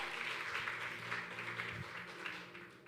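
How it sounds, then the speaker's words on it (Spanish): Applause from a church congregation during a Spanish-language service, a steady wash of clapping at moderate distance that fills the whole moment without breaks. "que le dé un aplauso"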